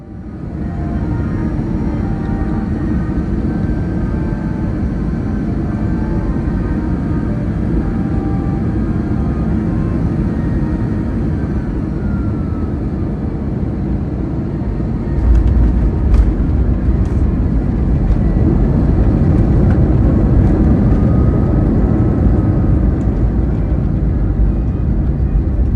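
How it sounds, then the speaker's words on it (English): Inside the cabin of an EVA Air Boeing 787-9 landing at Taipei Taoyuan airport, a loud, steady roar of engine and airflow fills the whole stretch, swelling into heavier rumble with a few thuds near the end as the wheels meet the runway. "So we're now landing into Taipei Taoyuan."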